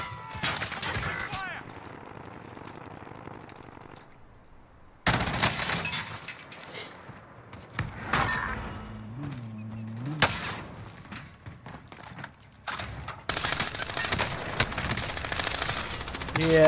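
Machine gun fire in the video game Call of Duty Warzone on Rebirth Island, with loud rapid bursts separated by quieter gaps, under the voices of players talking.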